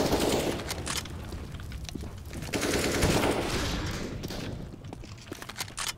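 Rapid automatic gunfire from a CS:GO match, loud bursts of machine-gun style shots rattling almost continuously for several seconds with heavier booms mixed in, no talking.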